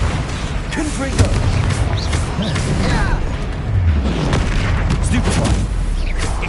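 Confringo blasting-spell explosions in the Hogwarts Legacy video game, several booming impacts in quick succession mixed with combat effects and whooshes, with a voice faintly present under the battle noise.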